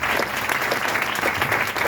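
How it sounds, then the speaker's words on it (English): An outdoor crowd at a rain garden opening ceremony claps steadily, a dense, even round of applause that continues throughout. "Let's give them a nice round of applause."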